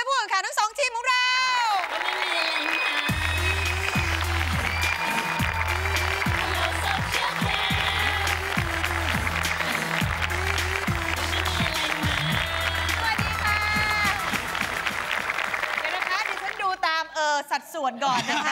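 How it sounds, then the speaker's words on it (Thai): Audience applause greets two competing teams at a Thai ice cream eating contest on a TV show, a steady dense wash of clapping with a voice and music running over it throughout. "ขอเสียงปรบมือให้ผู้แข่งขันทั้ง2ทีมของเรา"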